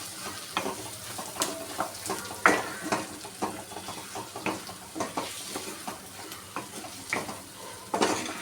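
Spoon scraping and stirring through spices in a frying prawn curry pan, with irregular clinks and scrapes over a soft, continuous sizzle; no voices.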